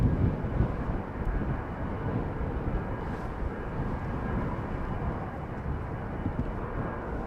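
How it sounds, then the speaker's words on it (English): A Boeing 787-9 Dreamliner airliner at an airport produces a steady, broad engine rumble at moderate distance, continuous throughout with no voices. "That's a 7879 Dreamliner."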